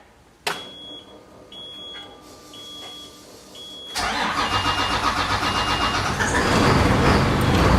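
An old bus engine cranks after a sharp click, with faint beeps over a quiet background, then catches and runs into a loud rough idle that builds steadily, close by.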